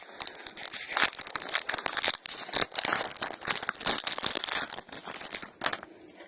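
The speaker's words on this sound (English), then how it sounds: "It's a Burning Shadows pack, so let's see what we can get." A Pokémon Burning Shadows booster pack being torn open and its foil wrapper crumpled, close and loud, with dense crinkling and tearing bursts running continuously, no talking.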